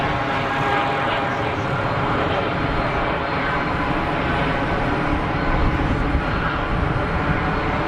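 Airliner engines roar continuously at Geneva Airport, a loud, steady broadband rumble and whine from aircraft taxiing nearby.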